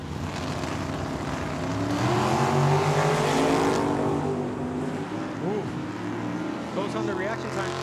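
A Chevelle drag racing car launching at Tucson Dragway, a loud engine roar that rises and builds as it pulls away, under a track announcer's talk.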